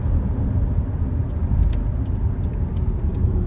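A steady car interior rumble while driving on Interstate 5 in the Pacific Northwest, continuous low road and engine noise with faint ticking clicks above, no talking.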